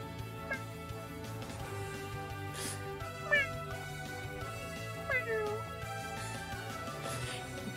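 A person imitates a cat with a few short, soft meows scattered over quiet background game music, fairly faint and close.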